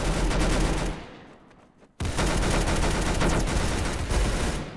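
Dense bursts of automatic gunfire from a Roblox Arsenal match, loud and continuous, briefly dropping off for about a second before the rapid shooting resumes at full intensity.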